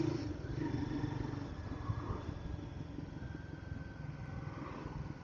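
A Royal Enfield Guerrilla 450 motorcycle rumbles steadily as it rides through city streets. The engine note holds low and constant with mild wind and road noise, with no gear-change surges.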